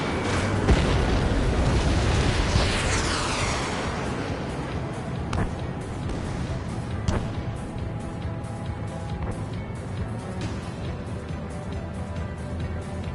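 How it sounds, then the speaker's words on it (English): Missile launch and explosion in the Ace Combat 7 flight game: a loud roaring blast that swells, then fades into a rumbling tail, with scattered pops and crackles above a continuous jet-engine drone. "Strider 1, missile launched."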